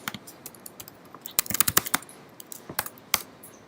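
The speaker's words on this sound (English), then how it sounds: "why don't I start typing these into the wiki as I go?" Rapid, irregular clicking of keys on a computer keyboard, bursts of close, crisp taps with short pauses between runs, no talking over it.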